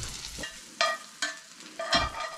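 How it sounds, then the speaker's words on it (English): Onions frying in a pan at a fishing camp cookout sizzle and crackle in short bursts as they are stirred, each scrape of the spatula bringing a brief louder hiss. "Well, these are caramelizing nice and well."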